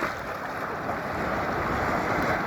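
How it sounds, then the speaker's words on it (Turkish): Sea waves come in at a sandy beach, a loud, continuous rush of surf and wind noise close to the microphone, with no voices. "dalgalar geliyor"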